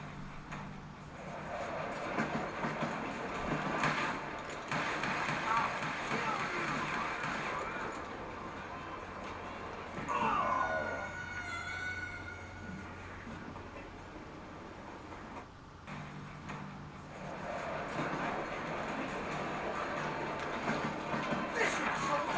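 A moving train in the video game Call of Juarez Gunslinger rumbles continuously with rattling, clanking carriage noise, rising and easing in waves, with a brief metallic squeal partway through and faint talk underneath.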